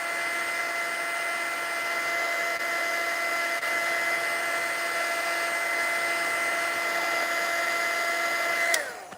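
A heat tool blows steadily and loudly while drying gesso and gel medium on a mixed-media altered Christmas tree, a continuous whirring hiss that holds for several seconds and then cuts off abruptly.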